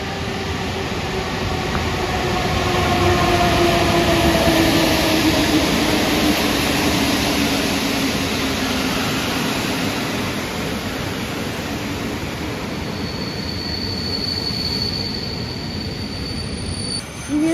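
An Intercity train pulls into a Warsaw station, a steady loud rumble of rolling wheels and carriages with rising and falling squeal tones and a sustained high whine near the end.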